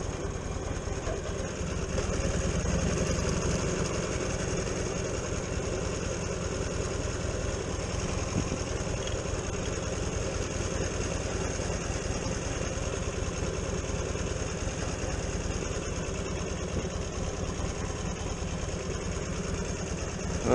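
A Buell motorcycle engine runs steadily for about twenty seconds, a continuous mid-low rumble with a faint hum on top and no clear revving, heard close and with no talking.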